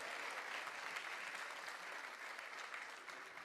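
An audience applauds at a comedy show in Paris, even continuous clapping that sounds distant and soft, holding steady throughout.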